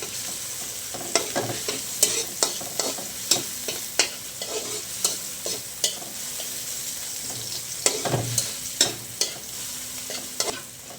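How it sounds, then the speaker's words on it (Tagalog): Sliced bitter gourd (ampalaya) fries in a pan under a constant sizzle, with frequent sharp clanks and scrapes of a spatula tossing it at an irregular rhythm; no voices. "Ako piniprito-prito ko pa yan eh. Yung ampalaya eh."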